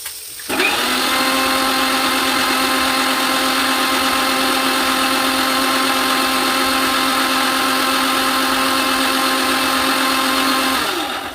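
A kitchen mixer grinder grinds coconut for a mutton curry: the motor kicks in abruptly and holds a loud, steady high-pitched whine for about ten seconds before winding down at the end.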